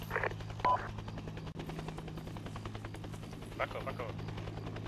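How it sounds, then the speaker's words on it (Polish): A helicopter in a video game drones with a steady low rotor hum throughout, with faint bursts of gunfire and short crackles over it, while players talk over the top. "Wszystko tam w porządku ze śmigłowcem?"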